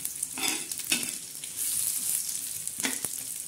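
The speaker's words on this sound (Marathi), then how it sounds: "मसाला तर इकडून खरपूस भाजतच आहे कडाने." Black masala and grated coconut roast in oil in a pan, with a continuous crackling sizzle and occasional stirring scrapes heard up close.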